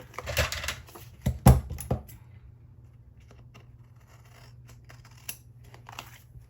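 Paper trimmed with scissors while making a planner spread: a cluster of crisp, close snips and paper rustles early on, then near quiet with a faint click later.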